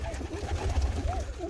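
Pigeons coo softly and repeatedly inside a well-ventilated bird loft, the low rolling calls overlapping over a steady murmur of background noise.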